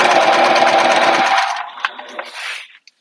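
A sewing machine stitches down the loop of a tote bag in a fast, loud, dense run that stops partway through, followed by a few light clicks and handling sounds.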